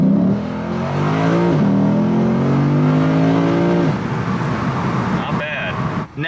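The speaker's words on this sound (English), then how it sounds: "As you would expect from a naturally aspirated V8, not a ton of low end torque" A Lexus IS500 F-Sport's naturally aspirated V8 engine revs loudly in Sport Plus mode, steadily climbing in pitch for a few seconds, then drops into a rougher idle-like rumble with a brief click near the end.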